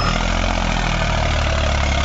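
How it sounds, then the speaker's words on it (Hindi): An Eicher 380 tractor engine idles steadily up close, a loud continuous low diesel rumble with even throb and vibration throughout, no voices. "ट्रैक्टर की आवाज देखो कैसे दमदार आवाज है"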